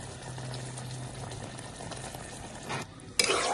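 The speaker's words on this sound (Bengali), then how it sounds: "খুব সুন্দর করে মিক্সড করে নেব" Duck curry being stirred and mixed in a pan gives a soft, steady bubbling sizzle with low scraping, fairly quiet and close, ending in a short louder clatter.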